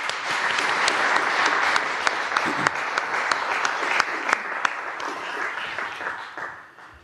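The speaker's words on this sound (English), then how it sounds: "Please give them a round of applause." Sustained audience applause at a yoga and spiritual celebration honoring volunteers, a dense wash of many hands clapping steadily at close-to-mid distance, with sharper individual claps standing out before it tapers off at the end.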